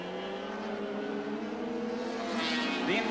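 Barry Sheene's Suzuki racing motorcycle in a 1983 superbike race, passing through a chicane with rivals close behind, gives a steady engine drone with several overlapping harmonic lines that rise slightly near the end, moderately loud under crowd-like background noise.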